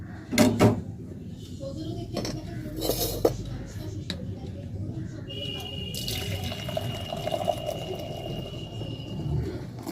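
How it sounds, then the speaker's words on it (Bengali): Freshly made tea trickles from a pot into a cup on a foggy winter morning. The thin liquid splashes and drips come with a few clinks and knocks against a steady room hum. "এখন আমি চাটা ঢেলে নেবো"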